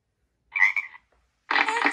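A cartoon frog croaks twice in a kids' game app, short bright ribbits separated by a brief pause, clean and alone.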